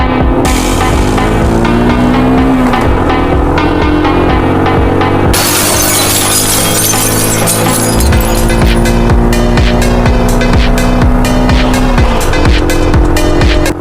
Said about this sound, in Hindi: जॉम्बी टैक्सियों में बैठकर पीछा करने लगे।